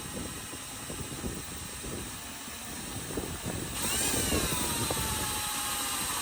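A power drill bores holes in the metal roof of a 2024 single-cab Toyota Landcruiser, a steady whining motor running continuously at moderate level and rising slightly partway through, with no speech.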